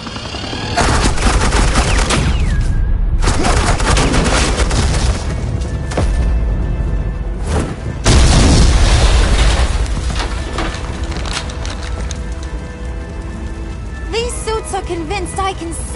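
Heavy bursts of gunfire with deep booms crash through a Batman: The Enemy Within game scene, repeated volleys over about sixteen seconds, loud and close with brief gaps between them.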